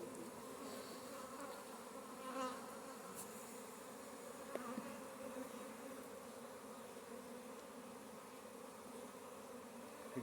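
Honey bees at a hive entrance make a soft, steady buzzing drone, faint and continuous, with a few individual bees passing closer now and then.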